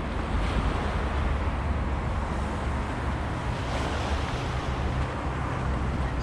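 Surf washes steadily onto Chilches Beach in Spain during a walk along the shore, with a continuous loud rush of waves and wind buffeting the microphone the whole time and no talking.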